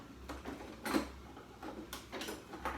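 Faint, rhythmic gritty crunches of a pepper grinder twisting over steak and potato salad, several short grinding bursts spaced apart in a quiet kitchen.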